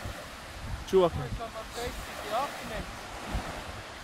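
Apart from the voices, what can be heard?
beach with waves and wind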